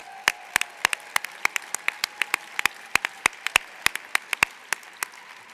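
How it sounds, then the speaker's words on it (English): Scattered applause at an arts awards ceremony, heard as distinct individual claps at a fairly steady pace, close and fairly sparse, with no talk over them. "Can we give them a round of applause?"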